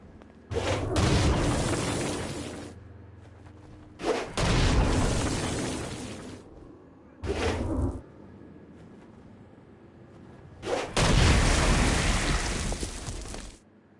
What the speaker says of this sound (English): Stone Blast is especially useful on flying demons like this one.